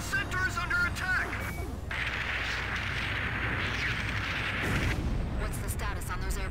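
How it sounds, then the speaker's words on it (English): Artillery fire in Ace Combat 5 rumbles as continuous heavy booms and a broad roar beneath radio chatter, with a sustained blast of noise that rises and holds before fading back. "They're firing! The center is under attack!"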